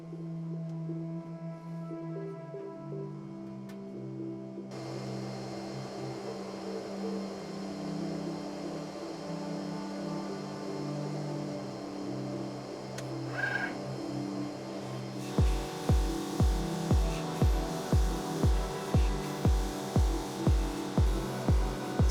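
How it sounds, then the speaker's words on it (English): An xTool MetalFab laser cutter works on a steel grill with 860 square holes, giving a steady machine hum and whir, then a regular series of sharp rhythmic pulses near the end as each square is pierced and cut, with no talking. "it looks like it's piercing the workpiece first, and then it's moving down and cutting each square."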